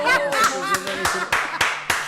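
Scattered bursts of audience clapping on a French talk show, several sharp claps in uneven rhythm under and between ongoing speech, fairly close and loud.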